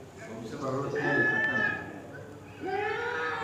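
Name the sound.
goat bleating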